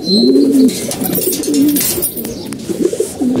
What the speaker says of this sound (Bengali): আমাদের একটা নর কবুতর বেরিয়েছে